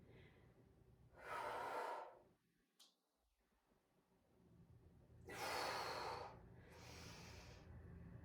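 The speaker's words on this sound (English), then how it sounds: "Keep breathing." Heavy breathing from a person doing a dumbbell workout: two loud, forceful breath bursts separated by a quiet pause, close to the microphone over a low background hum.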